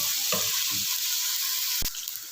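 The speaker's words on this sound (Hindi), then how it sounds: "वेजिटेबल्स को मैंने फ्राई करने के लिए डाल दिया है।" Vegetables frying in an oil-filled pan for pasta, a steady bright sizzle with a few soft stirring scrapes and a short sharp clink near the end.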